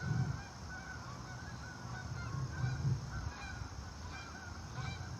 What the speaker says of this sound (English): I hope you can hear these birds, these geese singing